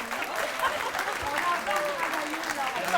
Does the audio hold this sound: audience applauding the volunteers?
yes